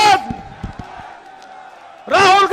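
A crowd at a political rally for Rahul Gandhi's arrival shouts and cheers in loud, brief collective bursts at the start and end, with a quieter lull and a few knocks between.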